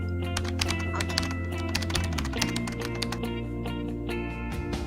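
Rapid keystrokes on a computer keyboard while entering AutoCAD drawing commands, a steady run of close, crisp taps with a few louder key presses, heard over a low continuous hum.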